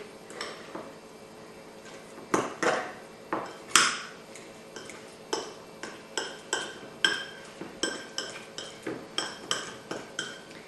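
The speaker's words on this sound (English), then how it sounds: "I'm going to add my jalapeno and use a fork and just mash it all together" Fork scraping and clinking against a bowl while mashing jalapeno into a burger mixture, a steady run of light metallic taps and scrapes, close and unhurried, with no talking.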